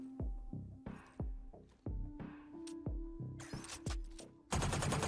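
Rapid bursts of synthetic gunfire from a Phantom rifle in Valorant ring out, sharp repeated shots with echoing tails, ending in a dense, loud volley.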